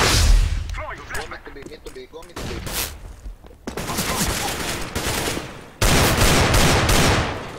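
Desert Eagle pistol shots in a competitive shooter video game ring out as several sharp, loud single cracks with gaps between them. A player talks over the gunfire.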